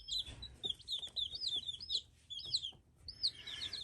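A fluffy-footed Cochin chicken gives a run of high, repeated chirping clucks close by, in quick bursts with short pauses.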